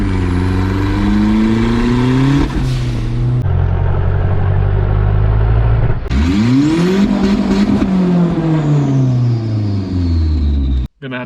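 Turbocharged Nissan truck engine revving hard at 15 psi boost, loud close rising and falling revs in two big pulls with a sharp cutoff near the end.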